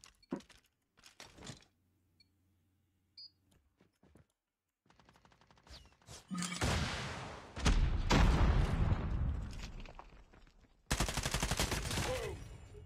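Call of Duty Mobile gunfire crackles in short bursts, then gives way to long, loud sustained automatic fire and a final heavy volley, with quieter gaps early on.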